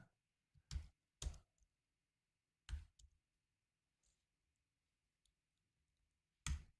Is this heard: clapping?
no